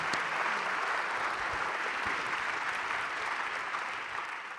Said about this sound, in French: Je propose qu'on applaudisse cette belle réponse.